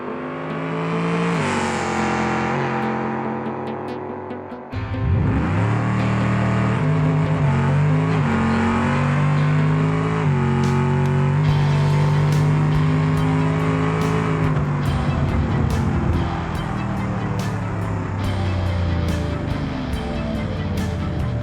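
Drag car in the BeamNG racing game roaring down the strip, a loud engine climbing in pitch through rapid gear shifts, with a brief drop before a sustained, strained high-revving run.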